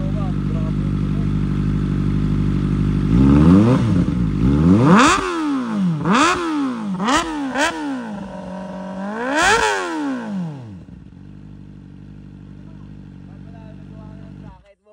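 A Kawasaki ZX-4RR fitted with a KOU exhaust pipe, loud and close, revving hard in repeated sharp blips from a steady idle, with a rising and falling whine, then settling back to idle.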